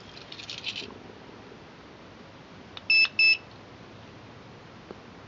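A wireless home alarm gives two short, loud electronic beeps in quick succession as its remote sets the mode, with a faint chirp earlier and quiet room hiss around them.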